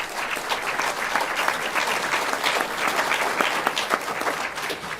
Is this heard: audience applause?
yes